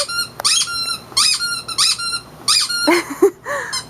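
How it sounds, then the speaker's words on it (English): A pet parrot's squeak toy squeaks in quick, repeated bursts, close and bright, several short squeezes in a row with brief pauses between them. "has a new squeak toy and he's really excited about it"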